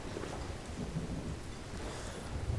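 Rain in the Sea of Thieves pirate video game makes a steady, dense hiss and patter of downpour with low rumbling beneath, continuous and moderately quiet throughout, without voices.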